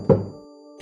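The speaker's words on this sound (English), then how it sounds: "Until there is a knock at the door." A single dull thunk of a knock at a door, close and fairly loud, followed by a short decaying resonance and quiet room tone.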